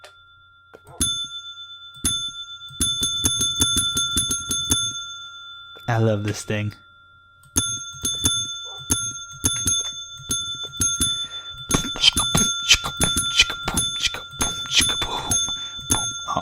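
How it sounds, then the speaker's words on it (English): A Minecraft desk bell, built from a redstone block with a button on top, dings over and over in quick rhythmic bursts with a few short pauses. Someone talks briefly between the runs of rings. "Take a redstone, place it underneath, and a button on top, and you get a desk bell."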